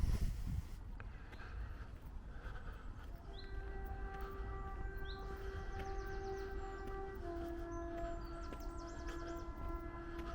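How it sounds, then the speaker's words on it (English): A distant train heading toward Hexham from Carlisle rumbles by with a steady mechanical drone and sustained tonal hums, occasional higher whines rising over the low rolling noise. "That train you can hear is coming towards Hexham from Carlisle"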